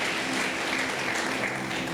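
A church congregation applauds during a sermon, a moderately quiet and steady wash of clapping that carries on evenly for about two seconds with no voice over it.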